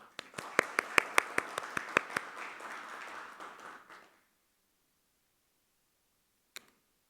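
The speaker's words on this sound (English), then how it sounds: "please give a big round of applause to welcome Dr. Hazman Abdullah on the stage" A small audience at a conference session applauds to welcome a speaker to the stage, with a few sharp, prominent claps over a softer wash of clapping for about four seconds. It then cuts to silence, apart from one faint click.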